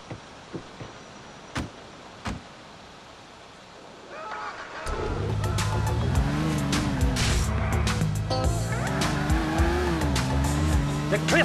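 A car driven in GTA IV roars to life after a quiet stretch, its engine loud and revving up and down steadily with tire noise, close and alone.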